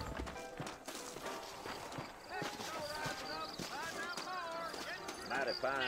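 Horses in a Red Dead Redemption scene clip-clop with steady irregular hoofbeats, mid-distance and moderately loud, under ongoing talk and game music.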